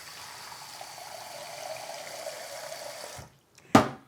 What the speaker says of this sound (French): Et on ajoute de l'eau à nouveau.